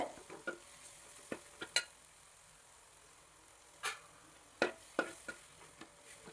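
Tomato masala cooks in a covered pan, and a spoon stirs it in a few separate scraping strokes over a faint, quiet background, with no talking.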